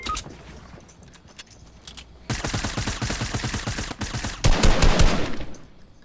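Rapid automatic gunfire in a video game shooter starts after a quieter stretch and then rattles on in fast, even bursts, growing louder and harsher near the end.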